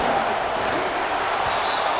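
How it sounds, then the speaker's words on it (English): Stadium crowd noise in the video game College Football 26, a steady, loud roar of cheering fans near the goal line, constant and dense with no clear breaks. "the crowd really making some noise now"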